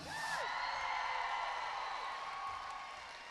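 Spectators cheer and whoop for Scotland's netball team, the Scottish Thistles, at a World Cup qualifier against Northern Ireland, a sustained moderate roar of crowd noise that fades slightly toward the end.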